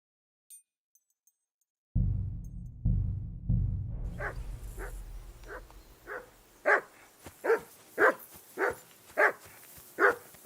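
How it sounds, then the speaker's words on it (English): A dog barks repeatedly at a riverbank camp in the video game Kingdom Come: Deliverance 2. After some low rumbling, a steady, evenly spaced run of sharp barks rings out at moderate distance, with no talking. "Whistle at that mutt of yours to stop barking!"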